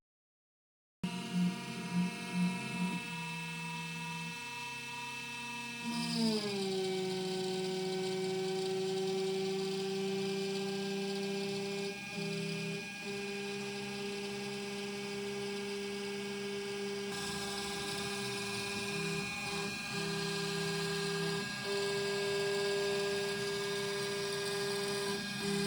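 Makera Carvera Air CNC machine engraving a plexiglass acrylic piece with an engraving bit: a steady, loud spindle whine with a sustained motor drone and a pitch drop early on, running continuously without speech.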